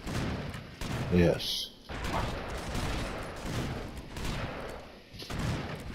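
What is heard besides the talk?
gunfire from the video game Broforce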